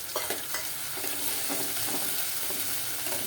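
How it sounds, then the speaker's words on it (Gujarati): Chopped tomato hitting hot oil for urad dal, a loud, steady sizzle and crackle with stirring scrapes in the pan, close up and without any talk. "એમાં આપણે એક ટમેટું કાપેલું તો તે નાખીશું"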